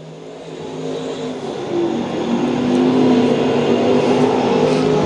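Stock cars in a USRA short-track race roar past together, a loud, steady engine drone that swells as the pack goes by, with no talk over it.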